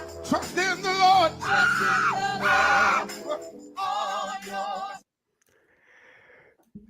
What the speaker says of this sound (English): this brother just starts screaming for no reason